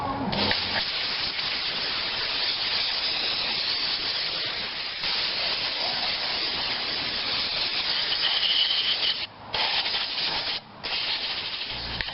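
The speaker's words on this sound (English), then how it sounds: "I'm gonna sandblast these next" Parts from a 1945 Farmall BN tractor being sandblasted: a loud, steady hissing blast of abrasive spray that runs continuously, cutting out briefly twice near the end before resuming.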